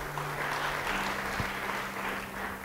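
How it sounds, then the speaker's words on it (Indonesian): A church congregation applauds during a sermon, a broad wash of clapping from many people that carries evenly throughout, with a low steady hum underneath. "Beri tepuk tangan bagi dia."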